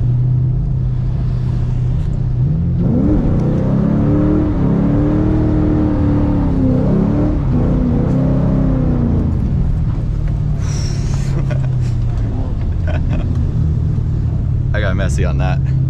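A Ford Mustang GT drifting on a wet city street in the rain, its V8 engine rumbling loudly and revving up and down through the middle, then settling into a steady, close drone with brief higher hiss near the end.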